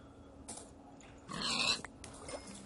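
Pigs in the video game Minecraft give a few short snuffling oinks and grunts, the loudest burst in the middle, close and isolated over quiet background.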